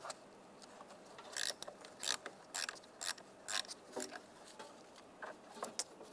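A 10mm socket wrench ratchets loose the nut on a Volkswagen Jetta's negative battery terminal, giving quiet, close, irregular clicks in short bursts with no speech.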